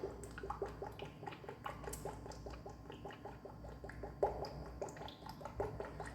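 Motor oil glugs and gurgles as it pours into the engine of a 2022 Toyota Corolla, a quiet, rhythmic series of liquid pulses with occasional drips and splashes, no talk.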